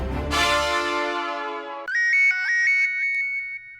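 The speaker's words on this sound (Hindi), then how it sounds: "अरे जेठालाल का फोन।" A mobile phone rings in a home comedy scene: first a sustained harmonic tone, then a bright repeating electronic ringtone melody of quick stepped beeps, loud and close, with no talking.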